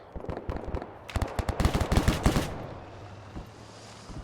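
Tank and gunfire in the Arma 3 video game: a dense burst of rapid automatic shots and heavy cannon reports, loud and close, then tapering into fainter scattered shots and low rumble.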